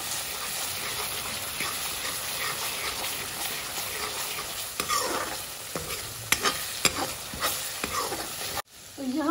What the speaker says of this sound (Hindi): अब इन सभी मसालों को हम मिक्स करेंगे।